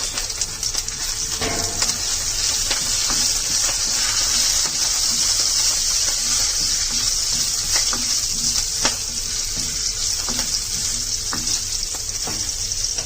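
Curry leaves sizzle and crackle in hot oil in a pan, a steady, loud frying hiss with scattered pops and light stirring, no voices.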